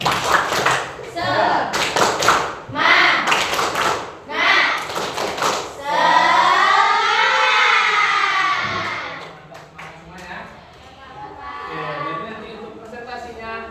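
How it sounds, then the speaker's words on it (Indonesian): Classroom group of teachers doing a rhythmic patterned clap in a training session in Indonesia, loud sharp bursts of clapping in sequence alternating with voices and chanting, then trailing into talk. "Tepuk semangat."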